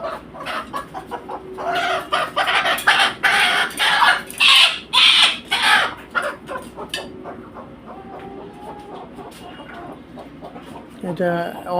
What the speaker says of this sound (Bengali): এই দেখেন দেশি মুরগা কত বড়